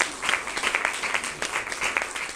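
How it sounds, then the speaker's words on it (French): Audience applause for a Haitian theatre troupe, Les Rescapés, steady dense clapping with a few sharper individual claps standing out, fairly close and moderately loud throughout. "Je vous demande de l'applaudir encore une fois."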